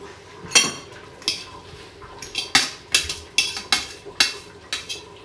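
Repeated sharp metallic clinks and clatters of a couscoussier pot and utensils as steamed semolina for Tunisian fish couscous is lifted out and poured, about ten distinct knocks in an uneven rhythm, close and clear with no talking.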